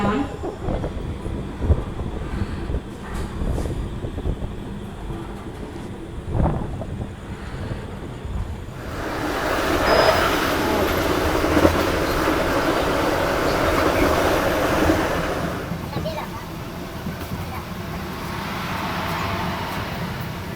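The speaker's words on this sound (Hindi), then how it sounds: "चलिए फाइनली 10 मिनट हॉल्ट के बाद अपनी ट्रेन का डिपार्चर हो चुका है मिथिलांचल की राजधानी अपनी दरभंगा जंक्शन से।" Raxaul Howrah Express pulling out of Darbhanga Junction, heard from inside a sleeper coach as a steady rumbling rail roar with wheel clatter that swells as the train gains speed, plus wind noise.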